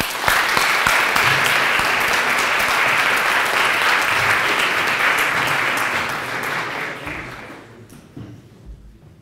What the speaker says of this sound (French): Et on peut applaudir d'abord le vice-président de la Fédération francophone de débat, Théophile Darvel.